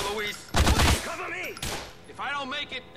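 Shotgun blasts in GTA IV: The Ballad of Gay Tony, a hallway gunfight, with a sharp loud burst of shots and another blast amid overlapping voices talking and shouting.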